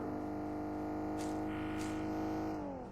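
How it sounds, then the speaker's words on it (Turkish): A car engine in the mobile battle-royale game PUBG Mobile drones with a steady, loud buzzing hum, its pitch dipping slightly toward the end, with a couple of brief whooshes passing over it. "Sese bak ya bu arabanın sesi de bir İğrenç."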